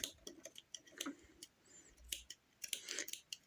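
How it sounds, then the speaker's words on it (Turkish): Dull scissors cut through fabric while sewing gathers, giving a quiet series of short, crisp snips in an irregular rhythm, close up and alone. "Benim makasım birazcık körelmiş."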